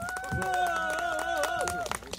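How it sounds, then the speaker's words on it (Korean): Clapping from an outdoor busking audience at a farm in Suncheon, brief and fairly close, under music with sustained tones and a voice speaking over it. "큰 박수 부탁드릴게요"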